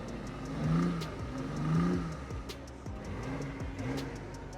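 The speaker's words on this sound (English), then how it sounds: "Why don't you rev it again? Yeah, let me rev it." A BMW i8 revs twice, its engine sound played through a speaker, in two rising swells of moderate loudness over steady background noise, with no talk.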